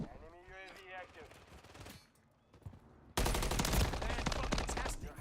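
Rapid machine gun bursts from Call of Duty: Modern Warfare 3 gameplay, loud and dense, erupting after a quieter stretch of game sounds and continuing as sustained close gunfire.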